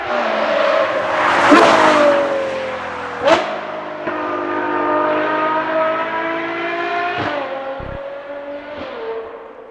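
A Novitec-tuned Ferrari Purosangue V12 with a redefined exhaust system and new tips revs loudly and close up, with sharp rising blips, sustained howling holds and crackling pops between revs.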